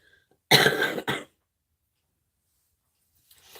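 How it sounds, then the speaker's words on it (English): A single harsh cough bursts out close by, quickly followed by a second shorter one, and then the room falls nearly silent. "the cough sounds bad, but it's not bad"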